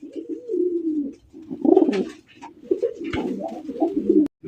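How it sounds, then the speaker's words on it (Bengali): Light-coloured racer pigeons coo close by in repeated low, throaty bursts with short pauses between them, with some rustling and a sharp click near the end. "লাস্ট একদম দর্শক বন্ধুরা মাত্র 1500 টাকায় কিন্তু এই রেসার জোড়ি আপনারা সংগ্রহ করতে পারবেন"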